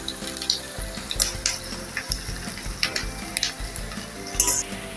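Chopped onion and bay leaf sauté in hot oil for masala chicken, a steady close sizzle punctuated by repeated scraping stirs of a spoon against the pan, without talking.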